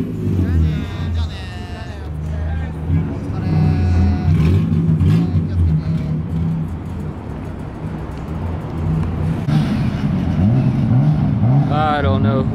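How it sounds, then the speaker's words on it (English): A Nissan Skyline R34 revs hard at a night car meet at Daikoku parking area, its engine rising and falling in repeated bursts amid crowd noise and other idling cars, with people talking nearby. "Just revving it up like crazy going through everybody"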